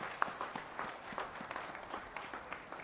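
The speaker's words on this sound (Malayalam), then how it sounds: "ഒരു നിറഞ്ഞ കയ്യടി അവർക്ക് കൊടുത്തുകൊണ്ട് ഇതിലേക്ക് പോവാം" Audience at a Kerala Vision corporate victory celebration applauding, a steady mid-level wash of many hands clapping with scattered sharper claps throughout.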